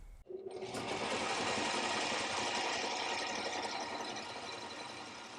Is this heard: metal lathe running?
yes